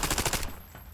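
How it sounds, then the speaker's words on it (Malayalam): Rapid automatic gunfire from a weapon in Call of Duty Mobile, a burst of about five quick shots in close, loud succession that cuts off abruptly, leaving a faint tail. "ഈ ഗെയിമിനകത്ത് ഏറ്റവും വൃത്തിയായിട്ട തോക്കാണ് ഞാൻ ഉപയോഗിക്കുന്നത് ഇപ്പൊ"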